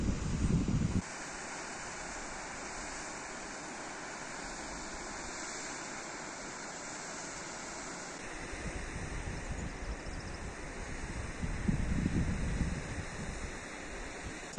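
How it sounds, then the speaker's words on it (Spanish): Steady broadband roar of the Toxa waterfall in Galicia, rushing water heard from nearby with wind buffeting the microphone, swelling louder near the start and end. "Esa es la fervenza del toche."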